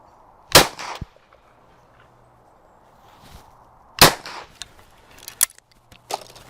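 A .410 shotgun, a Winchester or Nikko, fires at clay targets outdoors, with two sharp, loud reports spaced a few seconds apart and fainter clicks and clanks of the action between them.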